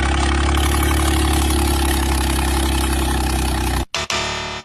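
A tractor engine idles steadily beside a Haryana Roadways bus stuck in mud, a loud continuous rumble for nearly four seconds before it cuts out sharply, then briefly returns.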